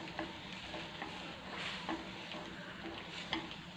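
Oysters and water spinach sizzle in a pan as the liquid comes back to a boil, a close continuous crackling fry with soft stirring scrapes and no voices.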